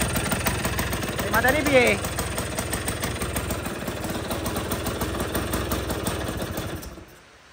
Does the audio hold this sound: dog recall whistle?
no